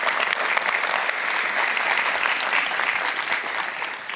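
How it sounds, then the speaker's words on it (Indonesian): A studio audience at a televised science talk show gives a steady round of applause, a loud, even wash of many hands clapping close by for the full few seconds. "Kita berikan tepuk tangan teman-teman audiens semuanya."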